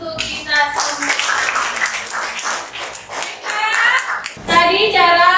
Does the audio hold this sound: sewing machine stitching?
no